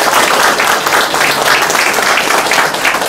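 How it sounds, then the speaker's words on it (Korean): Guests at the opening of a Korean city council candidate's campaign office break into loud, energetic applause, a short, dense burst of many hands clapping close by. "다시 한번 힘찬 박수 부탁드리겠습니다."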